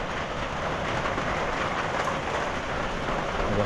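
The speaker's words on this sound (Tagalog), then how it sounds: "Ay, hindi na tumila yung ulan." Steady, dense rain pouring down, a constant hiss with no pauses and no voices.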